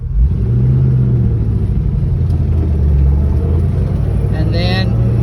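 A 1963 Ford Falcon Futura driving slowly as it shifts into first gear, a steady low engine rumble heard from inside the car with little change in pitch.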